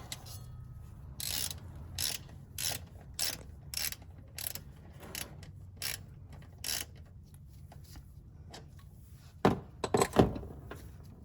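Ratchet with a 6mm socket working the transmission bolts on a 2008 Mercedes GL550, a run of sharp, close clicks in quick bursts, followed by a few heavier metallic knocks near the end.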